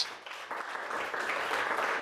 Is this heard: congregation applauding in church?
yes